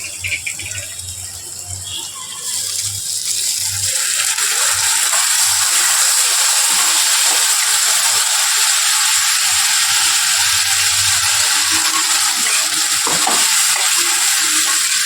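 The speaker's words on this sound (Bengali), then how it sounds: "মশলার বাটি ধোয়া জলটা একটু অল্প অল্প করে দিয়ে ভালো করে কষিয়ে নিতে হবে।" Water from rinsing the spice bowl is splashed into spice paste frying for a mutton curry in a pan. A steady, loud sizzle swells sharply as the liquid hits the hot paste and then hisses on continuously.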